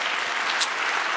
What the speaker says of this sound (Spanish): Dale un aplauso, Señor